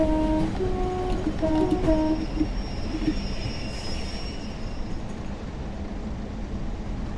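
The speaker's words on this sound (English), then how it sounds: "Some nice tones from the 87 as he takes off." Class 87 electric locomotive pulling away on the Lancaster to Morecambe line in a train simulator: a few rising tonal whines at the start, then a steady, heavy rolling rumble that fades slowly.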